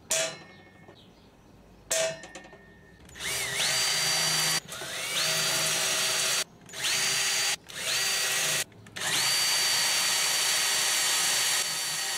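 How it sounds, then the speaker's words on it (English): A power drill whines through several bursts as holes are bored, each run starting with a rising spin-up, separated by short pauses, loud and close with no talking. "so 4 holes are drilled"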